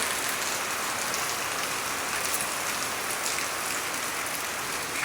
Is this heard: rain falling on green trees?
yes